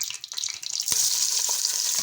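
Onions fry in oil inside a pressure cooker for chicken biryani, giving a close, loud, continuous hiss and sizzle broken by faint scraping taps from a stirring spoon.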